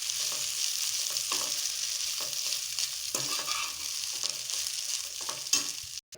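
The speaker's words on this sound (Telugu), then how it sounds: "ఈ ఆయిల్లోనే మేము కడిగి పెట్టుకున్న మునగాకుని కొంచెం క్రిస్పీనెస్ వచ్చేంత వరకు బాగా వేయించుకోవాలి." Washed moringa leaves fry in hot oil until crispy, with a steady, close sizzle under repeated stirring scrapes, ending in a sharp clunk.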